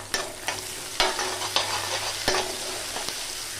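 Mustard seeds, fenugreek, cumin and sun-dried vadagam are tempered in hot oil for a green turkey berry kuzhambu, giving a low, steady sizzle punctuated by several sharp spoon taps and stirring clatters against the pan.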